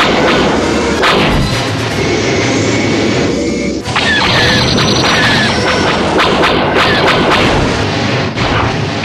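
Loud space-battle cannon fire in a Spanish radio drama, a dense continuous barrage of heavy blasts and crashing booms with a brief dip midway, roaring close and unbroken throughout.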